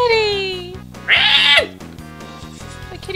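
A cat meows in the Chrono Trigger video game, a single drawn-out falling cry followed by a brighter mid yowl, heard over steady game music.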